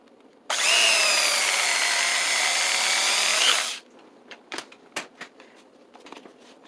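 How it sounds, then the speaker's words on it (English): Electric knife cutting through rubber, a loud buzzing whine that starts abruptly, holds steady for about three seconds and stops, followed by a few quiet clicks and handling noises. "I'm just going to cut it with this electric knife"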